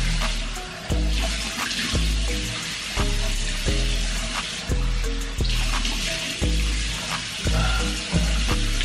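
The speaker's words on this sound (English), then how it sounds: "Time to wash my face, man." Steady stream of water running from a bathroom tap into a sink during face washing, close and continuous, with periodic splashes and thumps as hands scoop and rinse.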